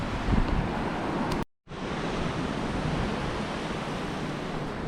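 A river rushing along a mountain trail around Mount St. Helens, a steady loud broadband roar of flowing water with a brief dropout near the start and no voices.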